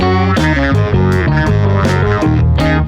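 A generic music example in 4/4 time with a full, slightly distorted band texture: steady low bass, chord hits and bright accents marking an even four-beat pulse, played loud with no talking.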